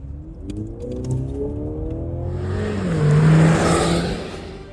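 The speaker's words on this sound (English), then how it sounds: "When you put it into sport mode, you even get some very raspy fake engine notes." An artificial sport-mode engine note from a second-generation Mercedes-Benz GLC rises in pitch as the car accelerates, with a rough, raspy tone that swells louder then holds near the end.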